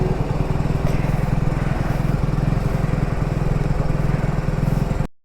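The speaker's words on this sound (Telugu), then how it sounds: "బైక్ వామప్ చేస్తున్నా" A motorcycle engine idles steadily while warming up on a cool morning, a close, even low rumble with regular firing pulses that runs unbroken for about five seconds before cutting off abruptly.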